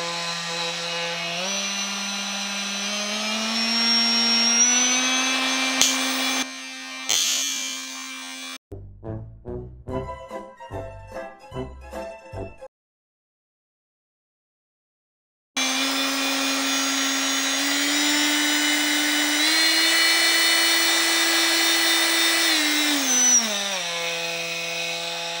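A Festool OSC 18 oscillating multi-tool runs at no load in first speed, giving a steady high buzzing whine that shifts pitch slightly, breaks into a stuttering rattle, goes silent, then resumes its drone.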